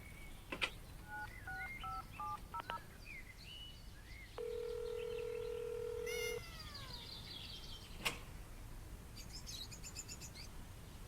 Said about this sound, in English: Let's see how the cat reacts to my cell phone's vibrate mode